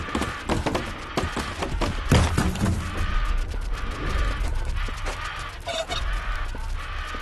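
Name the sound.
chicken clucking in a Roblox video game, 99 Nights in the Forest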